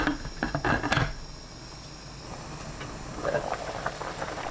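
Water with nurungji (scorched rice) boiling over high heat in a pot after dried pollock has been sautéed in sesame oil, a close bubbling patter with louder bursts at the start and again near the end.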